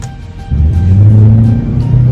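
A customized car fitted with a Wagon R engine rumbles low and close, then swells into a louder, sustained rev that holds to the end.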